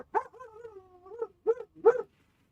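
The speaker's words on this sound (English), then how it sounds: "My puppy's being loud." A pet puppy, Millie, gives a string of high whimpers and whines followed by two short, sharp yips, close and fairly quiet, with no one talking.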